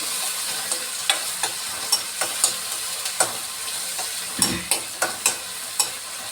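Stuffed bitter gourd frying in plenty of oil: a continuous sizzle broken by regular, close spatula scrapes and taps about every half second, with no talking.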